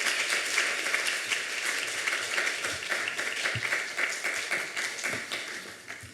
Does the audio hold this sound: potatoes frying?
no